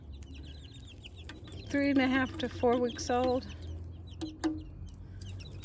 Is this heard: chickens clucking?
yes